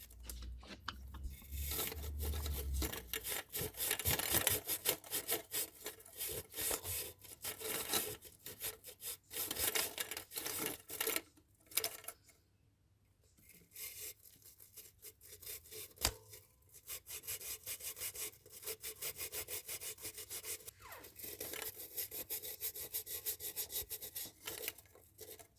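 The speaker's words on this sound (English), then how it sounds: "Remove rust deposits on the coolant jackets" Hand scraping and rubbing to clear rust deposits from the coolant jackets of an Alfa Romeo 33 IE 8V engine block during head gasket repairs, a steady gritty rasping that runs almost throughout with a few short pauses.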